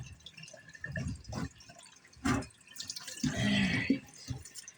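Tap water splashes and drips unevenly while a turkey is rinsed in a sink, with close, moderately quiet bursts and a longer steady gush near the end and no speech.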